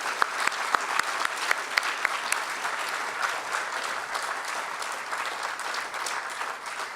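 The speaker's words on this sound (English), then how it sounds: "I think you deserve a round of applause" A university audience breaks into applause after a talk on health and human rights, starting with a few sharp individual claps, then settling into steady, dense clapping that carries at an even level for the whole stretch.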